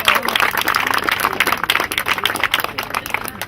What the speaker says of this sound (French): Applaudissements à toutes les filles.